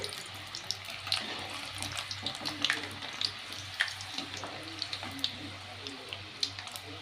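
Garlic fries in oil while being stirred, making a soft continuous sizzle with scattered light pops and crackles, moderately close under a low steady hum.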